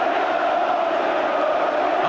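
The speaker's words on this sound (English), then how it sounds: "And the crowd here celebrating now." A football crowd at Middlesbrough versus Aston Villa roars in celebration after a goal, a broad, sustained wash of massed cheering from the stands throughout the moment.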